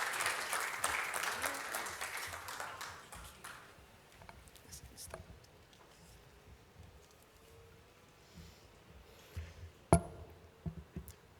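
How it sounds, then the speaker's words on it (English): An audience at an engineering conference on healthcare applauds its panel, a dense burst of clapping that holds for a few seconds and then thins into scattered claps and faint room noise. "Can I just get a round of applause for Joseph, Victor, Anthony, Kenneth, and Joanna?"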